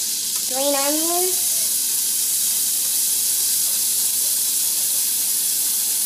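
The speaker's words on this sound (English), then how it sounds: "We're gonna go ahead and add in our green onions." Green onions sizzle in melted butter in a hot pan, a steady broadband hiss throughout, with a brief spoken voice near the start over the frying.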